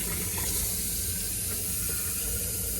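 Tap water runs in a steady, even hiss, close and moderately loud, with no voices over it.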